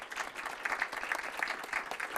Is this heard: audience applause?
yes